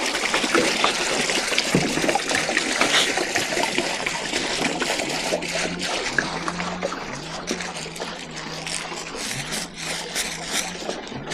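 Water from a fish pond gushing and splashing steadily as the pond is drained for a water change, a continuous close rush with trickling over a faint low hum.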